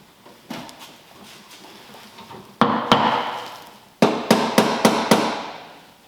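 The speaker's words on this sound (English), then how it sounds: "What are you hammering?" Metal-on-metal hammer strikes while a heater is being installed: a few scattered light taps, then two sharp loud blows and a quick burst of four or five ringing strikes, close up with no talk.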